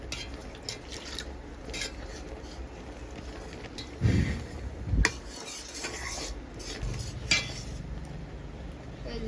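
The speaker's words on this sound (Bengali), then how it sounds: "এরকম এইভাবে সুন্দর করে ডালটা ঘুটে নিতে হবে" Boiled lentils being mashed in a pot with a spoon give soft rubbing and stirring, broken by a couple of heavier knocks against the pot. Faint background hiss runs underneath and no one speaks.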